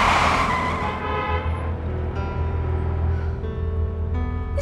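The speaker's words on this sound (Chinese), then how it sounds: "踩什么刹车啊！" A car brakes suddenly, tires skidding over a steady engine rumble, with broadband road noise that stays loud and close throughout and no talking.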